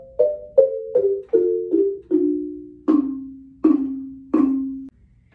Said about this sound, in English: The xylophone will also be used to play the baby owls or owlets.